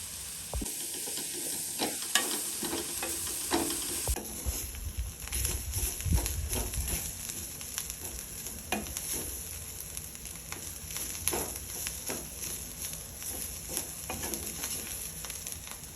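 Ingredients fry in a pan with turmeric for a bitter gourd gojju, producing a steady, close hissing sizzle with occasional stirring scrapes and clicks throughout.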